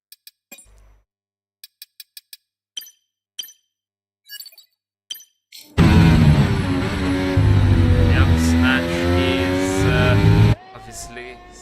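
A Formula 1 car in the F1 23 racing game, on a hot lap at the Qatar circuit: after a few light clinks, a loud engine roar with a rising pitch cuts in and holds for about five seconds before it stops abruptly.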